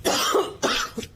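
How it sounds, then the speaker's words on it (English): Two harsh, chesty coughs from an ill man, close and loud, followed by a brief throat-clearing rasp. "I can't stop this cough."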